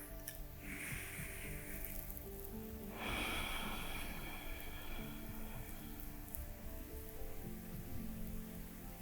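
Ujjayi yoga breathing, with the throat constricted and air drawn through the nose, becomes a steady, soft, ocean-like rasp that swells partway through and then holds as a continuous hush under faint background tones.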